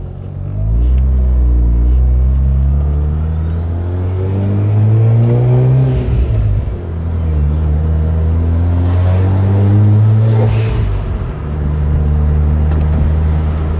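Mazda RX-8 rotary engine running close and loud, deep rumbling idle rising and falling through revs with uneven, stumbling misfires breaking the note.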